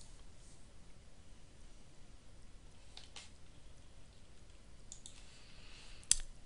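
Faint computer mouse clicks during a QuickBooks Canadian Edition installation from CD: a few sparse, quiet, sharp clicks over a near-silent background, with the last click slightly louder.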